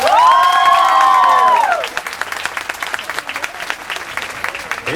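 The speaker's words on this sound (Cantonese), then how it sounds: "用你嘅口同埋用你嘅手，給予一次歡呼同埋掌聲。" Audience at an intercollegiate debate final in Hong Kong bursts into loud cheering and applause, with a sustained whoop over dense clapping that fades after about two seconds into scattered, lighter claps.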